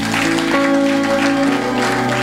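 A church congregation at a Pentecost jubilee service claps together in a steady, dense round of applause, with sustained organ or keyboard chords beneath it.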